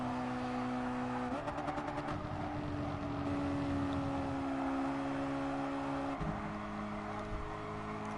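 A race car engine in the racing game GT Sport drones loudly and continuously while the car slows and turns into a corner. The pitch steps down with the gear changes, then holds steady before shifting again, with no talk.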